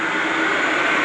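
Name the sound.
sugar factory blowing out pipes, loud roar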